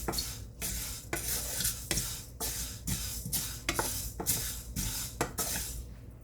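Fenugreek seeds are stirred and roasted in a dry pan for fenugreek coffee, with a steady close rasping scrape and rattle whose strokes repeat about every half second, loud and continuous with no voice.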